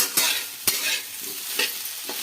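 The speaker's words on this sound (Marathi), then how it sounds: "तर आता चांगली परतून घेऊ आपण" Food sizzles in a hot pan while a spatula stirs it, with a few sharp scraping strokes over a steady frying hiss; close and unaccompanied by speech.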